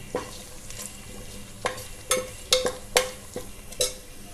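Cloves and cumin seeds fry in a pan for an Andhra village-style fish curry, with soft sizzling under a string of sharp spoon scrapes and clicks against the pan at an uneven pace.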